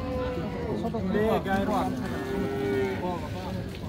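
A Friesian dairy cow at a cattle market in Raniganj, Dinajpur, gives a drawn-out wavering moo, close and loud, amid crowd chatter and someone speaking nearby.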